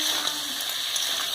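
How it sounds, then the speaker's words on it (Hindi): Turmeric powder is stirred into a hot frying pan for an Odisha-style crab and masoor dal curry, giving a steady close sizzle with soft scraping stirs. "ये हल्दी का पाउडर, इसको हम अच्छा से मिक्स करके"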